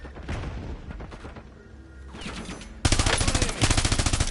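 Gunfire in Call of Duty Warzone: scattered shots and bursts give way to a loud, rapid automatic volley in the final second and a half, with game sounds mixed in.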